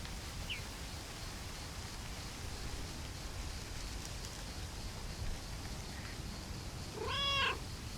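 A single short meow from a cat in the cozy video game Lake, heard near the end over a steady background hiss.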